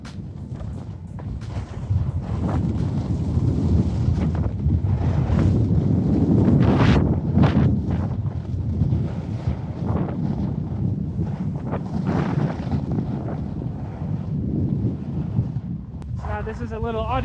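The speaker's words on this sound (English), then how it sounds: "at speed with some wind, GoPro mounted on my helmet" Loud, continuous wind buffeting on a GoPro MAX 360 camera mounted on a skier's helmet at speed, a steady roaring rumble with gusty swells throughout and no clear speech.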